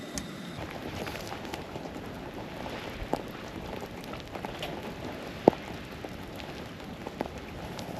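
Steady rain patters on a surface at a campsite on Tasmania's west coast, a dense, even hiss with occasional sharper drops standing out, continuous and close throughout.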